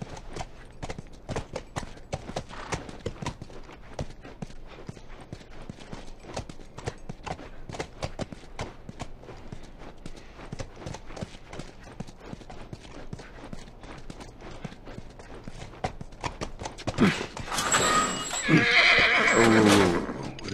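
A horse's hooves clip-clop in a steady walking rhythm for a long stretch in The Last of Us video game, ending in a loud, drawn-out neigh near the end.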